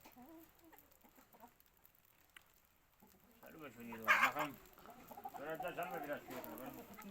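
Chickens and roosters cluck in the background, faint at first and then louder, mixed with people talking outdoors.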